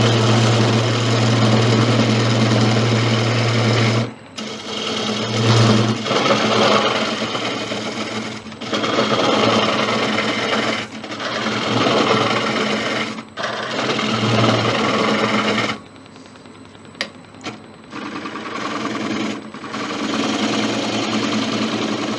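A bowl gouge cuts into a 15-inch white oak bowl with a touch of resin as it spins on a lathe, making a loud, continuous whirring scrape. A few brief pauses break the sound, and no one speaks.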